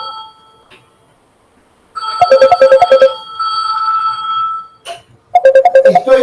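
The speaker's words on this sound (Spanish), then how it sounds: "corto este teléfono." A telephone ringing nearby, loud bursts of rapid electronic trilling with a short gap between rings, and no talk.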